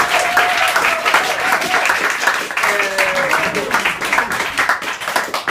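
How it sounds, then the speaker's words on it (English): An audience applauds with dense, sustained clapping, loud and steady, while a voice calls out faintly beneath it. "I think we should give Antonio one more big round of applause."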